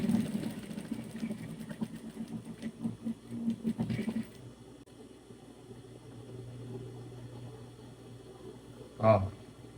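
A sewing machine stitches fabric for a patchwork star rug in short rattling bursts for several seconds, then goes quiet under a faint hum, with someone speaking over it and a brief clunk near the end.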